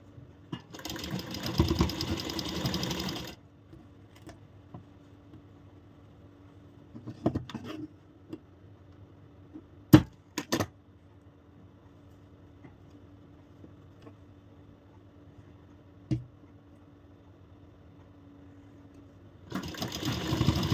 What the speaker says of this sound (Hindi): यहाँ भी बोनिंग का ध्यान रखते हुए सिलाई लगानी है कि हमारी सुई ना टूटे।